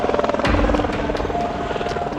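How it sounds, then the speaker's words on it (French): A firefighting helicopter over France's largest wildfire thumps overhead with fast rhythmic rotor chop and a whining engine, loud and continuous, coming to collect a bucket of water. "ça, c'est l'hélico qui va venir prendre la poche d'eau"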